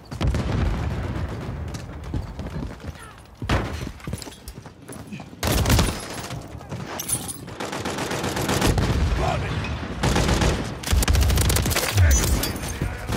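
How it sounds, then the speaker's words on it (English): Gunfire in a fast-paced online shooter game match, with dense rapid shots, bursts and booming blasts that continue almost nonstop, and voices mixed into the action. "Throw a stun grenade."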